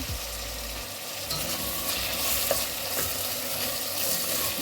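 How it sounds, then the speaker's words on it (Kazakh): Salted meat frying in a pan for lagman while being stirred, an even hiss of sizzling oil punctuated by occasional scraping strokes of the spoon against the pan. "Осыны біраз қуырып аламыз."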